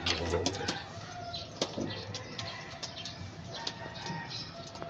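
Pigeons in a breeding loft, newly arrived breeders feeding for the first time, give soft intermittent coos and calls with occasional wing flaps and shuffling, fairly quiet and close.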